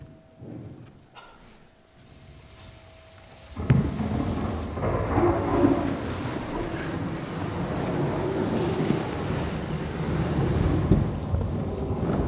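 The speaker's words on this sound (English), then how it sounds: "This storm's not fit for man nor beast." A stage storm effect for a junior class theatre performance: thunder crashes in after a quieter start and a steady wash of rain-like rumble and hiss carries on loudly to the end.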